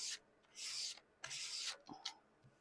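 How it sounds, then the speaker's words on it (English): Fine grit sandpaper rubbed over a gouache painting, giving soft scratchy strokes in several separate passes, each a second or less, fairly close and quiet with brief pauses between them. "Really go over with this fine grit and see."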